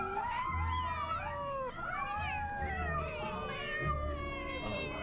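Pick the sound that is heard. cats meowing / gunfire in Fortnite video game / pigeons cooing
cats meowing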